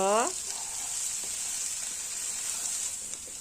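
Boiled black chickpeas with masala sizzle and fry steadily in a pan, with a constant hiss throughout and faint stirring scrapes under it; a short whistle-like tone sounds at the start.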